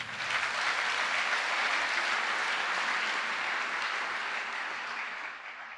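A church congregation applauding during a worship service, a dense, steady wash of clapping from many hands that holds for several seconds and then eases slightly at the end.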